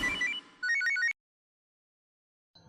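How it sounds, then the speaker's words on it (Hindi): A telephone rings in a short burst of two quick electronic trills after a loud musical sting, then the line falls silent until faint sound returns at the end. "फोन आया।"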